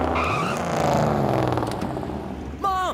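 A cartoon car is driven hard, its engine droning loudly as tires squeal and skid, ending in a sharp rising screech.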